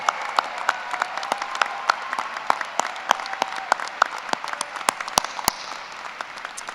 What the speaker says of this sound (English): Everyone, please join me in giving our graduates a well-deserved round of applause